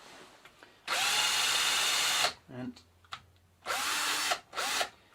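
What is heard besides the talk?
cordless drill spinning a bike dynamo at fastest setting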